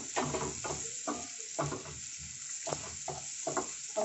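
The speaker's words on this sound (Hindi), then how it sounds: "प्याज हमें लाल नहीं करने हैं, हल्का हल्का सौते करना है।" Ginger and onion gently sautéing in a pan for malai kofta, a soft sizzle broken by rhythmic stirring scrapes about every half second, close and fairly quiet.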